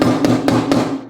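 A small hammer taps a glued wooden patch into antique 19th-century furniture, three light, evenly spaced knocks, close and clear, with no voices.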